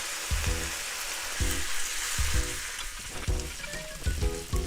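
Garlic frying with about 50 grams of butter in a pan, a steady sizzle under repeated low scraping thumps of stirring at a roughly even pace, close and fairly loud.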